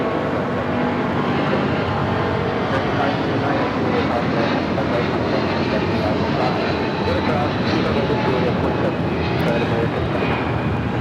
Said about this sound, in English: This is United Airlines 1170 taking off to Honolulu on the 777-200